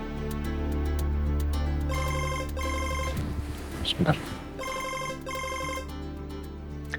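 A telephone rings in two bursts of trilling electronic tones over a low background hum, with a brief voice between the rings.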